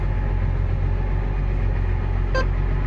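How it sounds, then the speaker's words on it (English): A farm tractor pulling a grain cart on the move gives a steady, continuous engine drone, with one short, sharp horn-like toot near the end. "Tractor and grain cart on the move."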